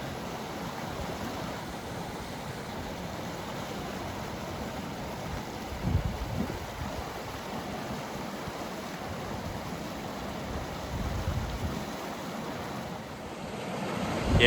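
Strong wind buffets the microphone on the Scottish coast, with surf washing in underneath and gusts swelling now and then.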